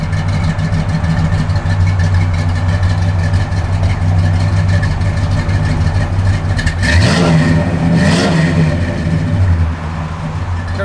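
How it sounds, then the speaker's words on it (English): A 1966 Pontiac GTO engine rumbles at a loud, steady idle close by, then blips up in a sharp rev around the middle before settling back to idle. "Car's got good sound."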